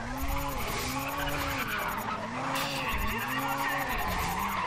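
A race car in Race Driver GRID revving and squealing its tyres through a corner, the engine note rising and falling in repeated swoops over a steady skidding hiss, loud and close throughout.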